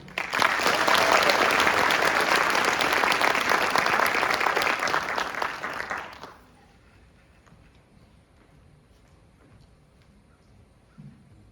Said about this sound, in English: Please join me in a round of applause for the Drill Sergeant Leader of the Cycle